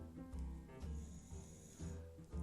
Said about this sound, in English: If you listen very closely, you can hear my dog snoring in the background.